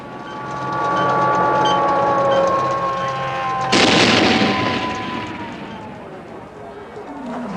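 Star Wars (1977) Death Star attack battle effects: a roaring whoosh of passing spacecraft with sweeping tones, then a sudden loud burst like an explosion or blaster fire, continuing as dense rumbling noise.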